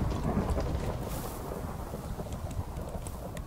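Thunder rumbles through a Minecraft world, a low, continuous roll that swells at the start and then fades into a windy, noisy wash, with no voices over it.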